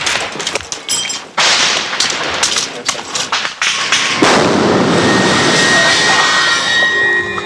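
Gunfire rings out during the 1989 fighting in Panama, a rapid scatter of sharp cracks and bangs followed by a sustained roaring blast that fades slowly.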